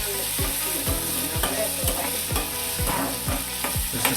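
Green chillies and curry leaves, with garlic, stirred in a pan of hot oil for a prawn curry: a steady sizzle broken by about nine regular, rhythmic spatula strokes scraping the pan, close and fairly loud, with no talking.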